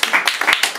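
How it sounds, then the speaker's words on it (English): A small audience at a free fringe comedy show in Edinburgh gives a short burst of applause, a few uneven, close claps lasting under a second. "Please give another round of applause to Heli."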